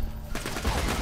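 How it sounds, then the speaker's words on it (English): Burst of rapid gunfire in Borderlands 2, a dense, loud volley of shots starting abruptly after a brief quieter moment. "I'm just shooting everything that's green."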